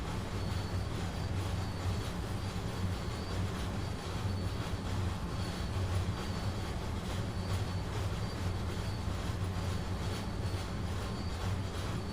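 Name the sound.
locomotive train running in Train Sim World 2 video game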